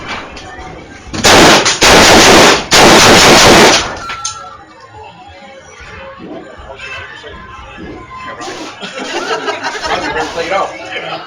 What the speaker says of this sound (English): This one's going to be a long gun.